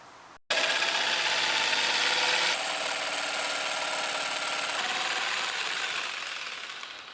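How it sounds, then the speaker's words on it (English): A jigsaw fitted with a very small blade makes curved cuts during a camper van build, a loud, steady mechanical buzz that starts abruptly and runs unbroken for several seconds before easing off slightly at the end. "for the curved cuts, we need to use the jigsaw"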